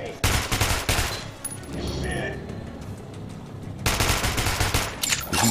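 Enemy gunfire in the shooter Metro: Last Light, loud dense bursts of automatic fire opening the clip, a quieter stretch in the middle, then heavy firing again near the end, with game noise throughout.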